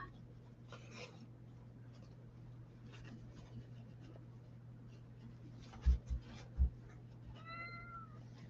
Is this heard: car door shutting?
no